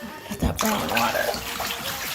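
Water running from a tap during bathroom cleaning, a steady splashing flow that starts after a short bump and carries on at moderate level.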